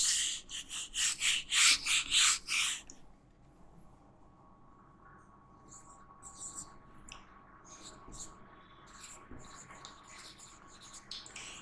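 A board eraser rubs writing off a classroom board in a quick series of loud, rhythmic scrubbing strokes for about three seconds, followed by quieter scattered scrapes and taps.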